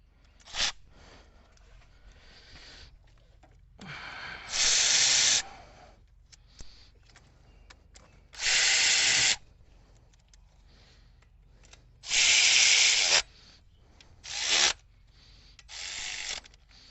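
On a Ford F-150 timing belt job, a power tool runs in several short bursts of a few seconds each to tighten bolts to a set torque, with quiet gaps between the bursts.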